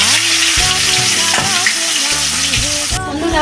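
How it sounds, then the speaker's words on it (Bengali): Pieces of katla fish fry in oil in a wok, three at a time, for a home-style fish curry, giving a loud, steady close-up sizzle under a faint melodic background. "এখন আমি মাছগুলোকে আমি ভেজে নিচ্ছি কড়াতে"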